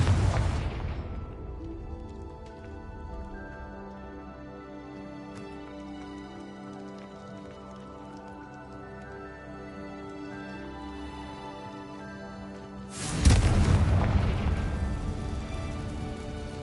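A Confringo spell explosion in a video game lands as a loud, sudden blast near the end, after a long stretch of calm tonal music and a softer rumble at the start.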